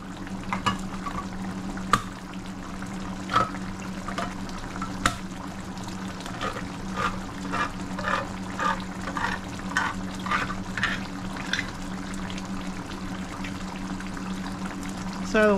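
Butter beans being rinsed under water in a kitchen, with irregular splashing and pouring running steadily over a low constant hum, faint clinks scattered throughout, no voices.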